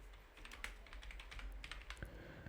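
Someone types quickly on a computer keyboard while building a salary sheet in Excel, a close, soft run of clicky keystrokes in uneven bursts over a low background hum.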